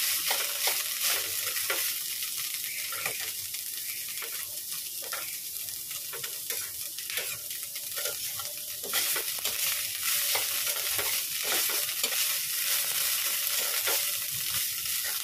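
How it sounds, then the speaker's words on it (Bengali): Banana stem sizzles steadily in hot oil after a mustard-seed tempering, with an even crackling fry and occasional stirring scrapes close by, heard alone without talk. "ওই তেলেই ফোড়ন দিয়েছি, দিয়ে থোড়টাকে ভালো করে ভাজছি"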